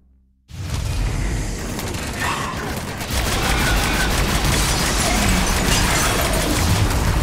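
Grenades detonate in the sci-fi shooter Mass Effect 3: a sudden loud blast breaks a brief hush, then rolling booms and crackling gunfire carry on heavily and without pause.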